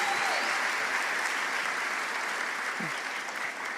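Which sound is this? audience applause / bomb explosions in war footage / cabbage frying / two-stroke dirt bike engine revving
audience applause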